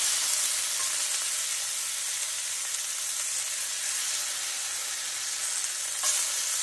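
Lemons sizzling in a very hot pan for chicken piccata, a steady loud hiss and crackle of frying that runs throughout with no talking.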